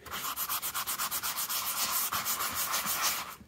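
Hand sanding of filler on a worn leather car seat bolster, brisk rhythmic back-and-forth rasping strokes, about five per second at first, then a smoother continuous scrub, close and clear with no talking.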